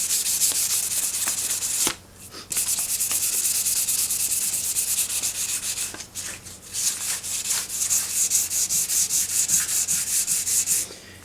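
Steady scratchy hand sanding of resin on a surfboard rail, a rough rubbing rasp that briefly pauses twice before continuing in brisk strokes, close and loud.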